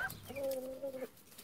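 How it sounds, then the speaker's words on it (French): A white hen on a poultry farm gives a single drawn-out cluck, fairly quiet and close, with no talk over it. "Là, une poule blanche."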